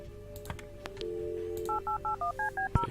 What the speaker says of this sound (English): It's Lenny's phone.